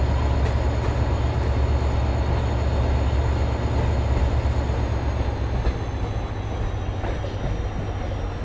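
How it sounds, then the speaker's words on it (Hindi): Locomotive in the Indian Train Simulator game accelerating on a main line at night, a steady loud rumble of engine and rolling wheels with a low droning hum, continuous throughout. "बहुत गंदा एक्सलेशन करता है यार ये लोकोमोटिव"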